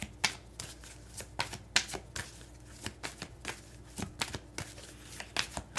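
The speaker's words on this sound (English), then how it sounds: "We're gonna pull maybe one or two more cards." Tarot cards being pulled and shuffled up close, a quick irregular run of crisp riffling flicks and slaps that goes on for several seconds without talk.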